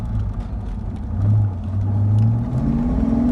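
1994 Ford Mustang GT SN95 engine accelerating at full throttle, a deep, close rumble whose pitch climbs steadily through the gears, with no talking.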